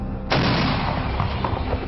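An artillery gun fires during an army exercise, a sudden heavy boom that rolls into a sustained, rumbling roar for the rest of the moment, loud and fairly close.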